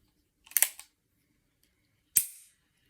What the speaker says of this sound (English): One is a metally sounding clink.